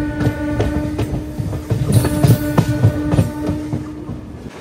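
A MEMU passenger train runs between Rajahmundry and Vijayawada, heard from inside with a steady rhythmic clickety-clack of wheels over rail joints and a constant rumbling hum.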